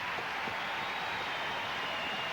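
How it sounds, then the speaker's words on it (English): Audience applause at a Miss India beauty pageant, a steady dense wash of clapping that holds evenly from start to finish, moderately loud with no voices over it. "You must applaud these parents,"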